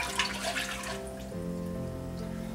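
Half a cup of water pouring and splashing into a bowl close by for einkorn bread dough, its pitch shifting as it fills, with a steady background hum.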